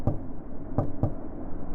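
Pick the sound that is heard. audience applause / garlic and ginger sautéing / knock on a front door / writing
knock on a front door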